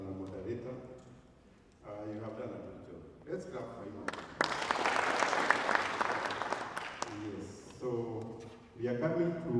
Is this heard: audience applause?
yes